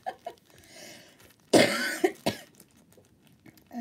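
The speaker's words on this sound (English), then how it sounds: "Apologies for the cough." A woman with a cold coughs: a few light throat sounds, then one loud harsh cough followed by two shorter ones, close to the microphone, with quiet pauses between.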